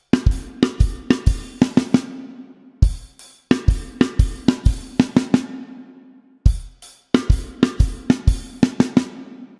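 A drum kit plays a rock beat with kick, snare and hi-hat in a steady groove, broken by quick fills of three rapid snare hits; punchy, close and loud, repeating over several bars without any talking.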